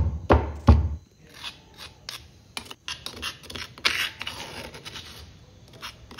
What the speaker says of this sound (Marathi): हे सर्व आपण खलबत्त्यामध्ये कुटून घेणार आहोत।